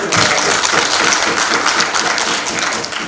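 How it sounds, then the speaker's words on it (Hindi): A seated audience at a talk claps for about three seconds: dense, lively applause that stays full and then eases slightly at the end, with no speech over it. "जरा इनके लिए तालियां बजाइए"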